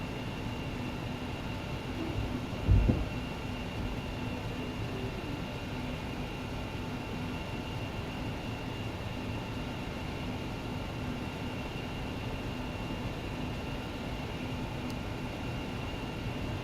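An ERJ-145 regional jet taking off and climbing in the X-Plane 12 flight simulator gives a steady, dense engine roar that holds throughout, with one brief thump near the start.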